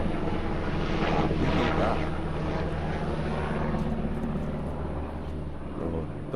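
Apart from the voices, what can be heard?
helicopter flying overhead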